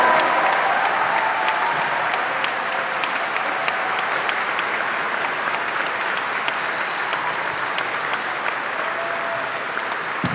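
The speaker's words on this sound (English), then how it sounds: "Come on, give him a round of applause." Long, loud applause at a university commencement for J.R., a dense and sustained roar of clapping with faint crowd noise throughout.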